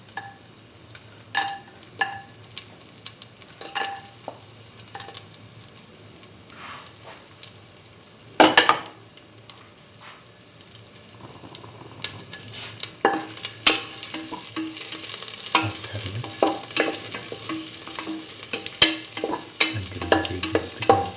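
Raisins go into a hot pan of carrot vermicelli and get stirred, steady sizzling with scattered scraping clicks of the spoon that grow busier and louder toward the end, no voices.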